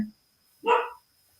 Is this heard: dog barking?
yes